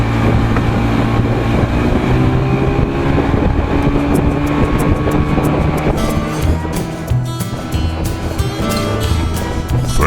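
A boat powered by a 55 hp Evinrude outboard motor runs at speed on the water, producing a loud, continuous engine drone mixed with heavy wind buffeting against the microphone.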